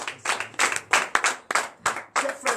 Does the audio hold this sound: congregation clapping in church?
yes